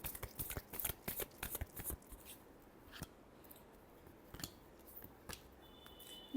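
Tarot cards are shuffled by hand in quick riffling bursts, dense at first and then sparser with short pauses, close and fairly quiet.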